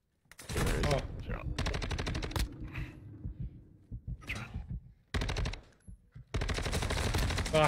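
Light machine gun fire in a video game: long rapid bursts, loud and close, separated by short gaps and quieter clatter, with no talk.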